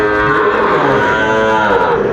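A Sahiwal cow on a farm in Jamalpur lets out one loud, close, drawn-out moo that fills the whole moment on its own.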